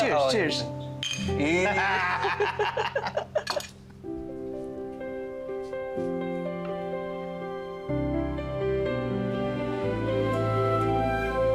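Glasses clink together several times in a quick toast at a meal of spaghetti and pansit, close and bright, followed by a sustained musical score.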